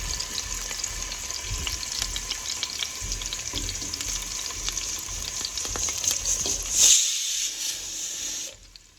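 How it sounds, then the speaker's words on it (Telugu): Small potatoes sizzle in hot oil in a pan, a dense, close frying hiss with faint stirring clicks that swells briefly near the end before the sound drops away, with no voices. "So oil వేడవుతుంది. సో ఈ విధంగా మనము పొటాటోస్ని అన్నీ ఈ విధంగా వేసుకున్నాం."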